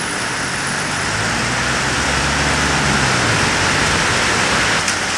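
Heavy rain pouring down steadily, a dense loud wash of noise with a low engine-like rumble underneath.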